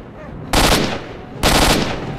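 Two loud bursts of automatic gunfire from a weapon in S.T.A.L.K.E.R. Shadow of Chernobyl, each about a second long, close and sharp over a low ambient background.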